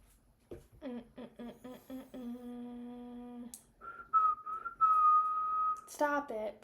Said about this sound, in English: Oh, right when I whistled.